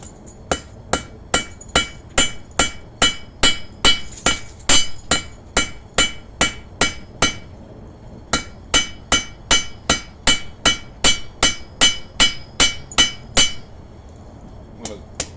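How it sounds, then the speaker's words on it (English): Rapid, regular ringing hammer blows on hot steel while forging a holdfast, a long steady series with a brief pause midway, sharp and close. "I'm going to hammer"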